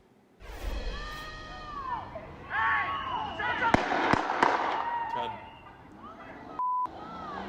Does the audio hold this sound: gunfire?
yes